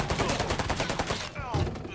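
Rapid bursts of gunfire in the video game Mafia 3, a quick string of regular shots at moderate loudness followed by a short pause and a few more reports.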